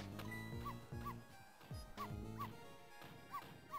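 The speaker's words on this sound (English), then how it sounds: "You're not supposed to bark." A small dog yips and barks repeatedly in the Ghost Trick: Phantom Detective video game, with sharp, bright barks in steady bursts over game music with a low, layered score.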